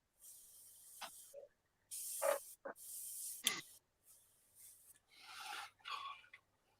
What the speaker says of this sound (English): My airbrush doesn't like this ink.